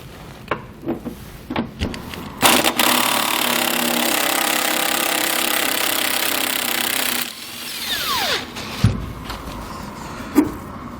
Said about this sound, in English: We're going to go ahead and remove one of our body mount bolts.